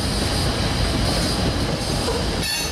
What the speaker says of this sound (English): Lackawanna Heritage motor leading on the passing train, backing into the yard.